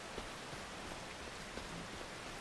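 Rain falls in the farming video game Farming Simulator 25 on the Hutan Pantai map. It is a steady, even hiss of rainfall throughout, with no talking.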